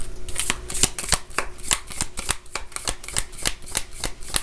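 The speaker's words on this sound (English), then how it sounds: "So let's grab a couple cards from here." Deck of tarot cards shuffled by hand, a steady run of crisp riffling snaps repeating about every quarter second, close and loud with no talking.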